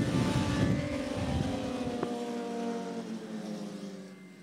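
Superstock racing motorcycles on a parade lap at Laguna Seca raceway, a loud, steady engine drone that holds throughout, with the low rumble dropping away partway through as the bikes move off.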